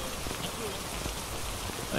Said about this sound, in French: Il pleut, hein.